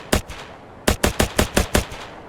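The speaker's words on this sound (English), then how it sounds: "For instance, the M4 has fully automatic and single shot" M4 rifle in Operation: Harsh Doorstop firing two quick shots, then a pause and a rapid burst of about six evenly spaced cracks, loud and close with no talking.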